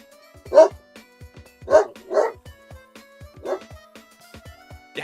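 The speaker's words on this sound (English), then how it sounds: "my dog is barking." A loud dog barks in several sharp bursts spaced about a second apart, close to the microphone, with softer whimpering yips and small clicks between the barks.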